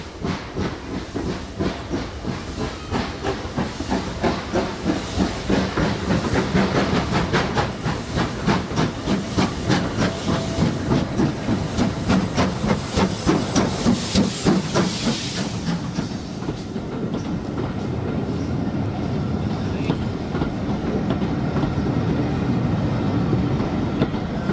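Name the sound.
steam locomotive Pendennis Castle train arriving at Arley Station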